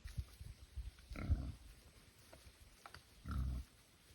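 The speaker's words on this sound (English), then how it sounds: "Feral hogs are escaped domestic pigs that essentially return to their wild state." Feral hogs, escaped domestic pigs gone wild, give two low grunting bursts from the brush, a brief one and then a longer one near the end, fairly faint and at a moderate distance in a quiet outdoor setting.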